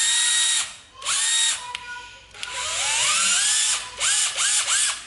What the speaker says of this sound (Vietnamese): Để mình test một hai con vít cho các bạn xem, để test chức năng trước ha